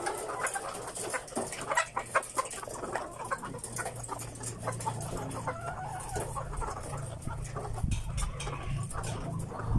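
Laying hens on a farm cluck and squawk continuously at close range, with many overlapping calls and rustling movement over a steady background.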